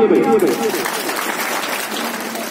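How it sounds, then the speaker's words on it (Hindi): Applause for members of a village youth group at a school Independence Day gathering, steady and fairly loud, with voices mixed in and a brief spoken tone near the start. "तालियां उनके लिए भाई"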